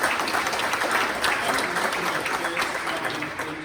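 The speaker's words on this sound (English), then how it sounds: "Can we please give them a huge round of applause?" Crowd at a property investment seminar in Christchurch Town Hall giving a big round of applause, a sustained dense roar of clapping filling the hall throughout.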